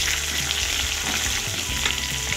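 Curry leaves crackle and sizzle in hot oil in a pan for a liver roast, with a dense, steady frying hiss and a few small spatters and scrapes throughout, close and loud, with no talking.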